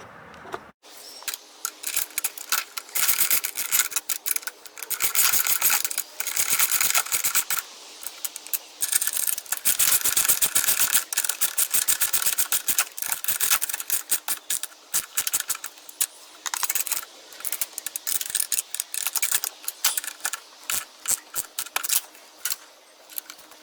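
Bolts with washers being tightened on a camping shower tent awning mount, a long run of dense rapid ratcheting clicks in steady bursts with brief pauses, close and fairly loud, with no talk.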